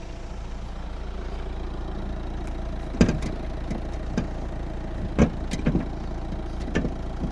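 A 2014 Peugeot 5008 1.6 HDi diesel engine idles steadily up close, a constant low rumble with a few sharp knocks and clicks scattered over it.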